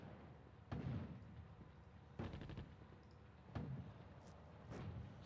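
Gunfire in a WWII strategy game set in the North African desert, with infantry shooting: four separate loud bursts of rapid shots, spaced roughly a second and a half apart, each followed by a lingering rumble.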